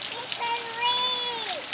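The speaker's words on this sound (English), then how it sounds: "Yeah, it's raining, huh?" Steady rain falls outdoors with a broad, constant wash of drops, while a voice talks over it.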